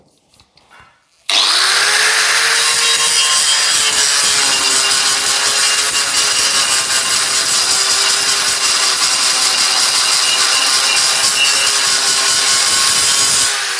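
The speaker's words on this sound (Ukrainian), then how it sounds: "зараз ми спробуємо його зачистити цим диском" An angle grinder disc scours a welded corner joint on metal, a loud continuous abrasive grinding that starts abruptly after a quiet moment and holds steady, with the motor's pitch slightly dropping under load.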